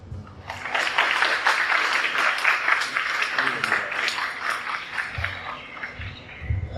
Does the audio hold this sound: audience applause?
yes